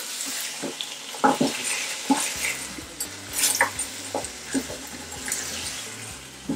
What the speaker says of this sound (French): On va mettre le bouillon, Denis. Mélange.